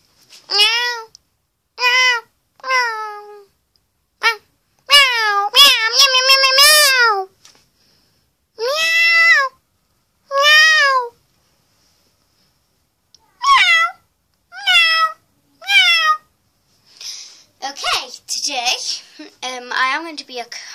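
A human voice imitates a cat, giving a series of drawn-out meows in short bursts with pauses between, close and clear, some rising and falling.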